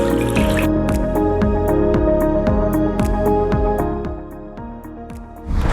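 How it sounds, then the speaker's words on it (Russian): Water poured into a pot for Yakut crucian carp fish soup, a bright, resonant stream with rising pitch as the pot fills, close and uninterrupted. "Наливаем воду немного, чтобы у нас наваристее, уха была такая нажористая такая."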